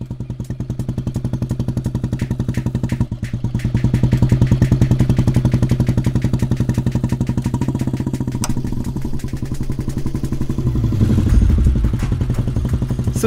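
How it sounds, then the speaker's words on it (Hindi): A Royal Enfield Bullet-style motorcycle engine thumps steadily with a loud, rhythmic single-cylinder beat as it is ridden, swelling slightly midway and continuing without pause. "आप बुलेट बहुत अच्छी चलाती हैं।"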